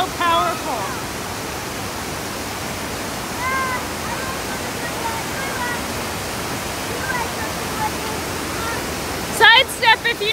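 Steady broadband roar of a powerful waterfall in Glacier National Park fills the scene, with faint voices drifting over it and a brief louder clatter near the end.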